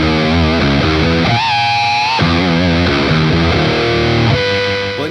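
A heavily distorted electric guitar played through a PDF-1X distortion pedal plays a riff of sustained, buzzing chords and bends, loud and saturated with no pauses.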